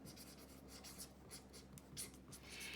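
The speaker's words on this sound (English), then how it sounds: "I'm going to write that down because I want to refer to it" A pen writes notes during an algebra lesson, giving a faint, steady scratching with short strokes and brief pauses, close by and without speech.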